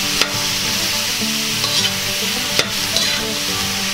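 Beef and mushroom being stirred in a hot pan, with a steady sizzle of frying and a few sharp utensil scrapes and clicks against the pan.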